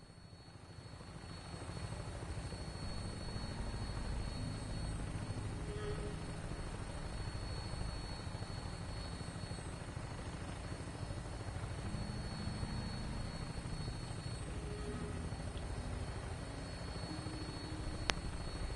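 An aircraft on final approach in Fallout 4 gives off a steady, rotor-like engine drone that holds at a moderate level throughout, with faint game ambience and no speech.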